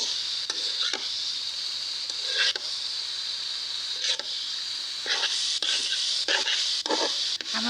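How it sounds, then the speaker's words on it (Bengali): Leafy greens cooking in a pan, a constant close sizzle broken by repeated scraping strokes of a spatula stirring them, the scrapes coming more densely toward the end. "এই যে শাকগুলো রান্না করছি"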